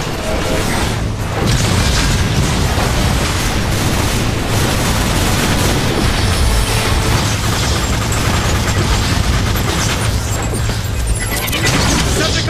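Loud, dense Transformers War for Cybertron battle: Decepticon grenade blasts and booming crashes over steady gunfire, continuous throughout with a heavy low rumble and a voice shouting beneath.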